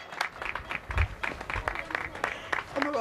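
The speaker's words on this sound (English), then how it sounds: "clapping for her daughter and for thousands of others" A crowd of people claps outdoors in the UK in thanks to health workers during the coronavirus pandemic, an uneven run of close, sharp hand claps that keeps up throughout without a break.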